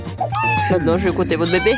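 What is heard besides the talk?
cat meowing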